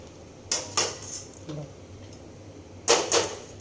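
A spoon stirs poha in a pan after the gas is turned off, making a few quiet scraping and clinking strokes in two short clusters against a hushed kitchen background.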